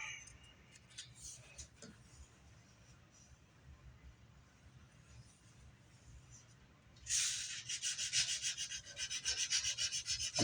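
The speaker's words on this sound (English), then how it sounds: "You don't want to cut for too long, because that sandpaper will definitely change the profile." Sanding a Korina wood Les Paul guitar body with 220-grit sandpaper: quiet scattered scrapes at first, then loud, close, rhythmic rasping strokes that keep repeating to the end.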